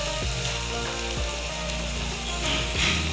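Masala sizzles and fries steadily in hot oil as sour, split yogurt goes in for a fried okra dish, with a continuous close crackle and a few soft low thuds of stirring or pouring.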